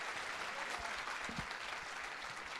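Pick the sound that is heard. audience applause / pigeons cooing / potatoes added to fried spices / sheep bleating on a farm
audience applause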